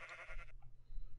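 A single short bleat from a sheep in a video game, close and clear for about half a second, followed by quiet background.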